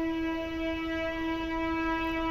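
A train passes near a village field, heard as a loud, steady sustained horn-like tone with rich harmonics held throughout over a low rumbling background.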